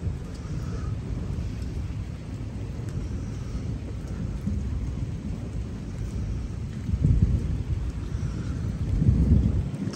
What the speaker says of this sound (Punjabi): ਬੱਦਲਾਂ ਦੀ ਗੜਗੜਾਹਟ ਅਤੇ ਬਿਜਲੀ ਦਾ ਚਮਕਣਾ ਬਾਦ ਦਸਤੂਰ ਜਾਰੀ ਆ